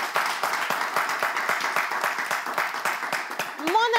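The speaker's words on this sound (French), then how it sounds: "Mais merci de vous applaudir" An audience at a live event claps steadily, a dense crowd applause of rapid overlapping claps that continues throughout, with a voice briefly rising near the end.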